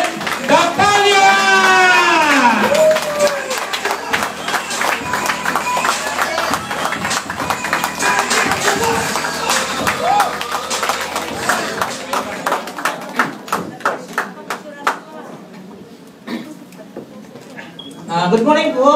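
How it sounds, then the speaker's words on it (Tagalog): A crowd claps and cheers loudly at first, then the applause thins into scattered claps with voices and shouts over it. "At milyon palakpak para kay Adline!"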